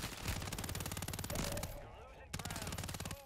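Rapid automatic gunfire from an enemy player in a video game, a dense burst of repeated shots that briefly pauses and then resumes, loud and close.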